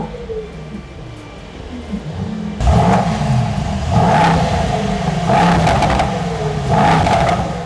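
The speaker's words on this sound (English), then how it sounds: "Now let me make the car rev. I'll just put it into track mode" A Mercedes-AMG GT 63 S E Performance in track mode bursts into a loud engine roar, then revs in repeated surges that climb and fall back, close by with no talking.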